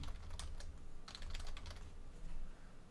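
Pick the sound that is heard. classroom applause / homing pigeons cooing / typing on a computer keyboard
typing on a computer keyboard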